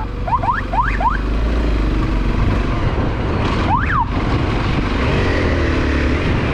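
Motorcycles with riders lacking helmets approach a police checkpoint in Tagbilaran, a steady engine rumble under traffic noise with several rising and falling whine-like passes, one louder pass near the middle.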